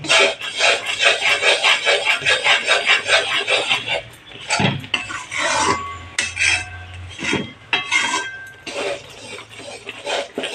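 Gram flour (besan) being stirred and roasted in a pan on low heat for Mysore pak, a steady close scraping and rasping of a spoon against the pan with a brief louder clatter midway.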